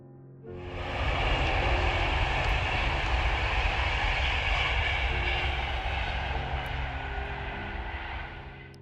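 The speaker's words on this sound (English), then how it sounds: "a modern high-speed train travelling north on the East Coast Main Line" A modern high-speed train on the East Coast Main Line roars past steadily for several seconds, a broad rushing rumble that swells quickly and then fades slightly toward the end.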